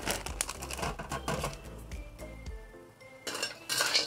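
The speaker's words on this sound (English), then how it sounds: "I'm gonna put in the rock sugar. I use the smaller pieces." Small rock sugar pieces dropped into a cooking pot with pork ribs, clinks and rattles of hard lumps against metal, bursts of clatter separated by a short quieter gap.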